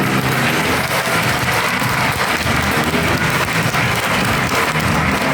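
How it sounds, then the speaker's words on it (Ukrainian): Loud, sustained applause from an audience at a school Day of Knowledge celebration in a gymnasium, a dense, steady clapping that fills the whole stretch without letting up. "А тепер зустрічайте мене гучними оплесками."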